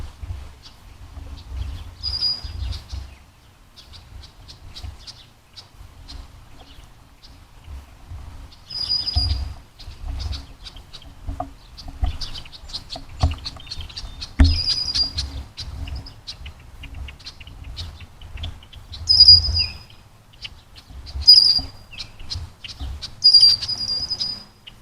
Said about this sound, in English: You can hear all the birds, and I'll stop talking for a minute so you can hear them.